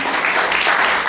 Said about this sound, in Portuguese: Então peço uma salva de palmas à Graça